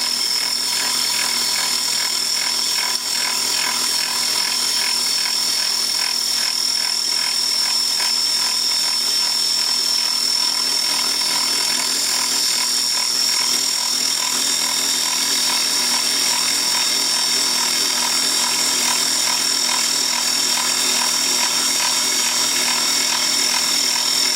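A power tool grinds steadily through a metal matrix mat during flower removal, a constant high-pitched whine with a dense buzzing texture running unbroken and close throughout, with no talking.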